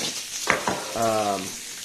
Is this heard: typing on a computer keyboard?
no